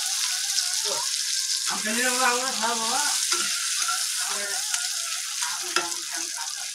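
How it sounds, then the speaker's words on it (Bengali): Tomatoes and chilies frying for a spicy chutney hiss in a steady, loud sizzle while a spatula stirs and scrapes through them up close, with a brief voice-like tone rising over the frying partway through. "টমেটোর লঙ্কাটা দিয়ে নিলাম। একটু এখন নাড়াচাড়া করে নেব আমি।"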